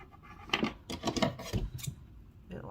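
Scissors snip thread while a pacifier clip is made from silicone beads, several quick close crisp cuts in a short burst, with no talking.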